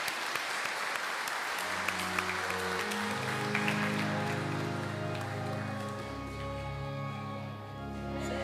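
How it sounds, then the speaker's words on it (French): A church congregation applauds at a Sunday morning mass, a dense, steady clapping wash that carries on as a choir's sustained organ-like tones rise beneath it and take over. "On les applaudit et on invite la chorale à chanter"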